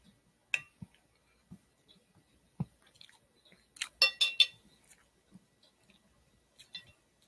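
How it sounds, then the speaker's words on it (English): Someone munches mac and cheese casserole with crust, producing scattered close, crisp chewing clicks and small crunches, with a brief burst of denser bites midway and quiet gaps between. "Hear you munching and"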